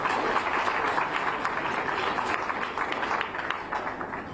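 Audience applause at a Cosatu women's event addressed by Ramaphosa, a sustained crowd clapping as a dense, even roar of many hands throughout, with no speech over it.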